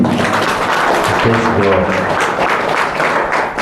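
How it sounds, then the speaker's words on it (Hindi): Congregation clapping for the Lord during a church service, a steady broad wash of applause with voices murmuring underneath. "एक अच्छा ताली बजाएं प्रभु के लिए"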